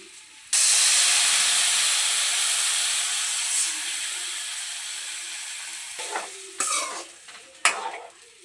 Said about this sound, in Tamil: கரைச்சி வச்சிருக்க புளியை சேர்த்துருவோம்.